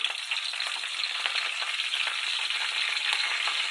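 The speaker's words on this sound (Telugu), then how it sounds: "అన్నీ ఒక నిమిషం పాటు ఫ్రై అవనిద్దామండి" Curry leaves, green chili and onion sizzle steadily in hot oil in a pan, a continuous bright frying hiss with faint crackles and no talk.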